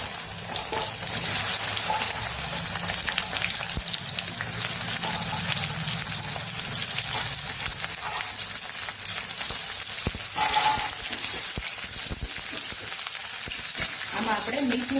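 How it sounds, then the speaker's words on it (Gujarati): Okra frying in hot oil for a Kathiyawadi bhinda shak, a loud continuous sizzle close by with occasional stirring and scraping sounds throughout. "તો અહીંયા આપણે તેલ સરસ ગરમ થઈ ગયું છે. તો પેલા આપણે એમાં ભીંડા ઉમેરી દઈશું."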